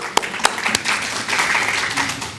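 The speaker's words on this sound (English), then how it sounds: "Could we please give them one round of applause" At a Dothan, Alabama municipal election event for District 1 candidates, a few sharp individual claps lead into a steady, moderately loud round of audience applause lasting a couple of seconds.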